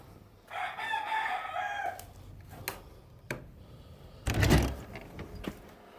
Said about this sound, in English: We got a chicken that refuses to stay in her home.